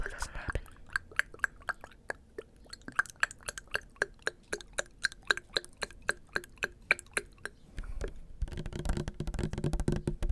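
Water splashes and drips right at an ASMR microphone near a keyboard, heard as rapid, regular, crisp close-up ticks and blips, ending in a denser wet burst.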